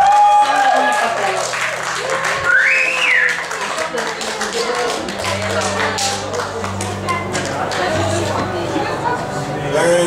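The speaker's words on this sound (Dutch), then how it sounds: "Dus geef hem een warm applaus." An audience at the Manifiesta 2012 political gathering in Belgium breaks into warm clapping, mixed with a whistle and crowd chatter. Voices are heard under and around the applause.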